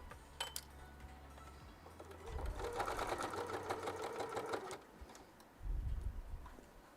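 A sewing machine stitches through vinyl in a quick, steady mechanical whir lasting about two and a half seconds, then stops, with a shorter burst of stitching near the end and faint handling noises in between.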